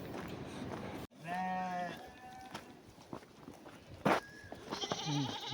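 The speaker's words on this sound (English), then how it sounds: "Goats, sheep." Several goats and sheep bleat in short wavering calls, fairly close, with rustling, footsteps and outdoor noise between them.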